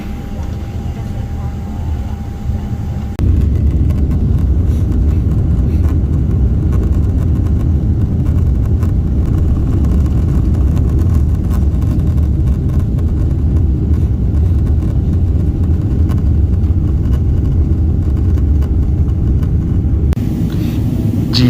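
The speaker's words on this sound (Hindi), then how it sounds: "जहाज़ उड़ना शुरू हो गया है।" Airliner taking off from Doha: after a quieter cabin hum, the engines surge into a loud, steady roar that holds for a long stretch, with voices faintly audible under the noise.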